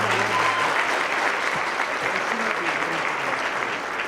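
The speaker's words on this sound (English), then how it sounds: "One more round of applause for Walmart and XPO." Dense, steady audience applause fills a banquet hall at the 2016 Women In Trucking Salute to Women Behind the Wheel, loud and sustained for the full few seconds with no break.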